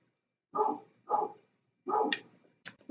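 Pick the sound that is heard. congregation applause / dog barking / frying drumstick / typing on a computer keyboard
dog barking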